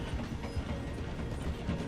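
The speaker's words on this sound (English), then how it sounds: "The train is slowing down to go through the station." A train in Red Dead Redemption 2 slows down while passing through a station, with a low rumble and rhythmic mechanical clacking of the carriages. The sound is fairly quiet and brief.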